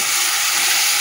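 Ground tomato-chili paste and fried onions sizzle loudly in a pan, a close, continuous frying hiss with no pauses.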